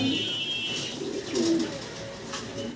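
Domestic pigeons coo softly in low, throaty murmurs that repeat through a steady background hiss, close by and fairly quiet.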